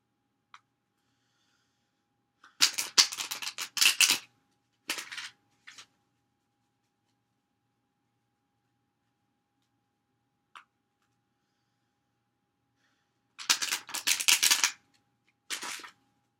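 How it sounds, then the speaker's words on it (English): Two bursts of crisp, rapid tarot card riffling, each a few seconds long and followed by brief taps, separated by a long quiet stretch; no talking. "So let me do some more shuffles here."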